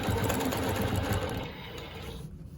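Longarm quilting sewing machine stitching a Baptist Fans pattern with rulers, a steady close whir of rapid needle strokes that eases slightly toward the end.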